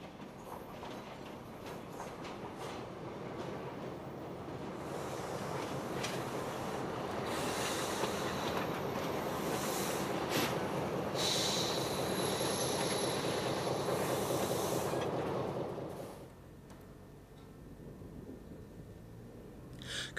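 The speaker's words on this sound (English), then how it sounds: "This local frequent stop service is operated by these venerable single Renault ABH8 units that are semi-permanently coupled to a trailer." A venerable Renault ABH8 single railcar coupled to a trailer runs on the Corsican railway, a steady rumbling roar with wheel noise that swells and holds, then drops away sharply near the end.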